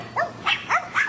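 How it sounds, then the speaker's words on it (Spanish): Small dogs belonging to neighbours bark four times in a quick, evenly spaced series, sharp and fairly close, with no talk over them. "perritos escandalosos"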